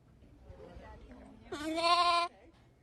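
Lambs bleat on a cheese-making farm during a spring visitor event, one loud, sustained bleat rising over quieter background voices and murmur.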